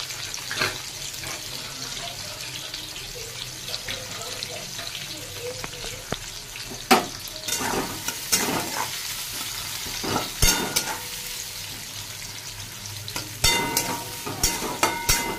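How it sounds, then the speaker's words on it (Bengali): Onions frying with garlic in a pan give a continuous sizzle, with frequent scraping and knocking strokes of a spatula that grow busier toward the end. A faint voice is heard in places. "পেঁয়াজগুলো একটু ভাজা হোক"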